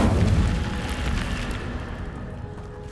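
The Incendio fire spell is cast in Hogwarts Legacy, a heavy booming burst of flame that starts loud and rumbling, then slowly fades and thins out over a few seconds.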